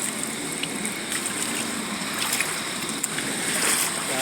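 Floodwater pours and splashes steadily through a flooded neighbourhood, a continuous rushing wash close by with small splatters and no one speaking.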